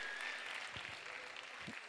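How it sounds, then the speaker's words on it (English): Audience applause at a practical-skills graduation ceremony: a soft, steady wash of many hands clapping together, distant and faint, with a few lower thumps near the end. "Can you clap for them, please, once again?"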